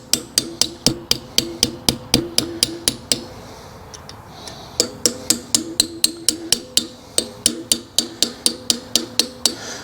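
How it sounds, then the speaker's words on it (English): A small chisel is tapped with a hammer to bend up locking tabs on a trailer axle hub nut for 9K-15K axle bearing adjustment: rapid, regular metallic ringing taps in two runs with a brief pause between, close and loud, no talking. "We need to bend those up in order to get this outer nut. So I'm just gonna take a small chisel."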